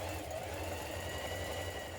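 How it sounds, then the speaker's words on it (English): A sewing machine runs continuously, top stitching a trouser back strap, a steady close mechanical whir and rapid needle chatter throughout with no pauses. "on our back strap we can top stitch all the way around the top and down the other side"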